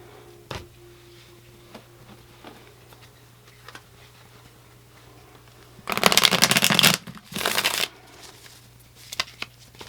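Tarot cards are shuffled in two quick riffling bursts, the first lasting about a second and the second shorter, loud and close against a quiet room with a few small taps and clicks.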